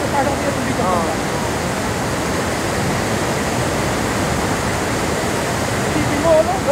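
Water from a natural spring rushes steadily at close range, a loud, continuous broadband splashing with no pauses, while people talk quietly beneath it.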